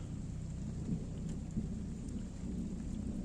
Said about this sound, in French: quand il commence à pleuvoir comme ça, c'est pas bon signe